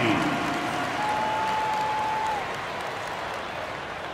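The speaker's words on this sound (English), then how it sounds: "Give them a round of applause" A video game crowd in NBA 2K23 claps and cheers steadily throughout a timeout, with a faint tone gliding underneath partway through.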